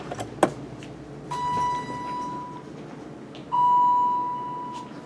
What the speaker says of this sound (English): Ring both bells.